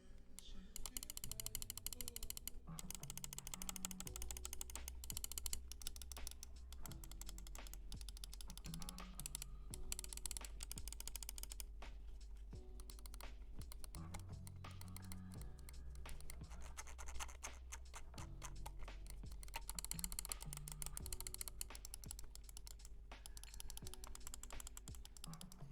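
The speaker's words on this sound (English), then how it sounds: "The clicks, here's the clicks." Darmoshark M3 budget gaming mouse buttons clicked rapidly and repeatedly at close range, crisp continuous clicking over a steady low background hum, no talking.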